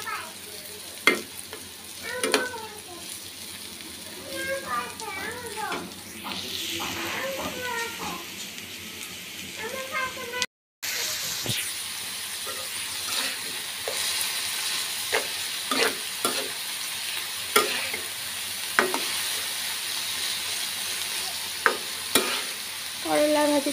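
Bitter gourd (karela) slices frying in oil in a pan, a steady close sizzle with repeated scraping and clinking of stirring throughout and a brief break near the middle; a voice talks softly over the first half.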